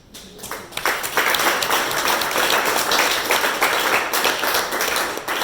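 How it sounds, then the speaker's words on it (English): A club audience breaks into loud, sustained applause for its members, a dense wash of clapping that swells quickly after a brief start and holds steady to the end. "you deserve a big applause"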